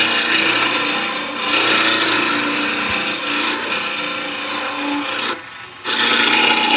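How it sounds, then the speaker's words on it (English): A roughing gouge cuts spinning wood on a lathe near a pommel in a loud, steady rasping hiss with slight shifts in tone, then drops out briefly before the cut resumes. "turn the roughing gouge over. All right, and that'll allow you to creep right in."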